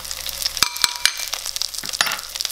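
An omelet fries in a pan with sharp, crackling sizzles and scattered spitting pops, close and fairly loud, with several distinct clicks or taps of a utensil against the pan.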